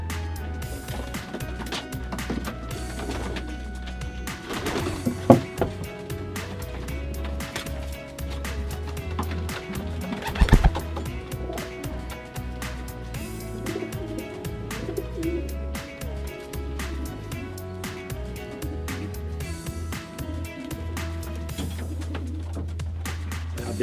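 Pigeons in a loft coo steadily at close range over a dense, continuous bed of background sound and music, with a few louder knocks partway through.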